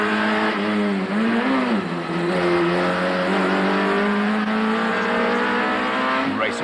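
Touring race cars from a 1999 championship round at Kyalami roar past loudly, with engine notes rising and falling through gear changes as several cars pass in quick succession.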